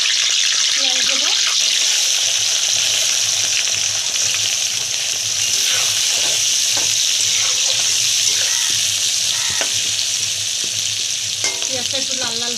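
Onions frying in oil with bay leaves and whole spices, a loud, steady sizzle close up with occasional stirring scrapes and faint voices in the background.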